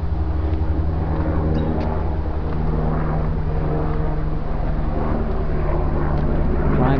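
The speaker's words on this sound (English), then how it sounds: "It's a helicopter flying overhead." Helicopter flying overhead at a creek reserve in Mount Waverley, a steady low rotor and engine drone that stays loud and constant throughout, no voices.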